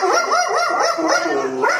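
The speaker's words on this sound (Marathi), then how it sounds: "कुत्र्याच्या आवाजामुळे माझा आवाज येत नसतो तुम्हाला" A dog barks loudly and close by at a Russell's viper in rapid repeated yips, a continuous excited burst with no pauses.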